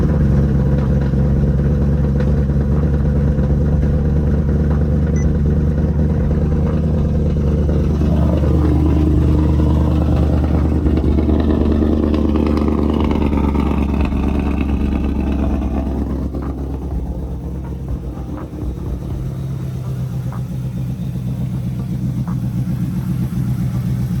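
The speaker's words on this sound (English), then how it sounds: "So let's get that first startup." A car engine running after an intercooler brick install, already idling in a loud, steady low rumble with clattering texture, briefly revved mid-way and settling slightly quieter toward the end, with no talk.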